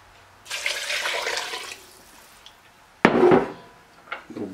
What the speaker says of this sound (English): We're just gonna add our 5 cups of water that I have pre-measured out